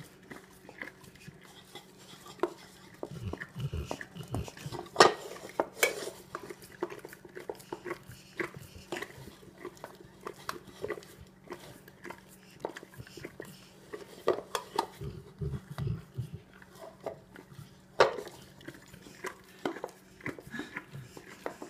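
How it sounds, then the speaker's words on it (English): English Mastiff licking a pan clean, with close, irregular wet licks, slurps and occasional clanks as the pan shifts, going on for about twenty seconds. "You cleaning up that pan for us?"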